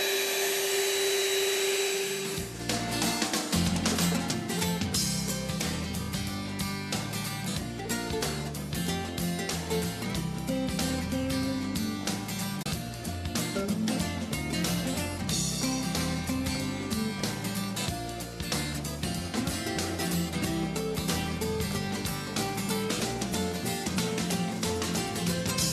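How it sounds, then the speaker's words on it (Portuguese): An electric stand mixer beats gluten-free muffin batter, a loud steady motor whir that starts abruptly and runs continuously close by, with no talk. "Então, continuando aqui a batedeira."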